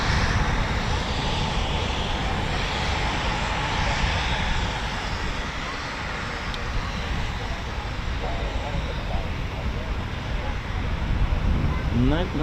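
An RAF Eurofighter Typhoon FGR4 jet roars steadily throughout, a loud, broad engine rush with wind buffeting the microphone and faint talk underneath.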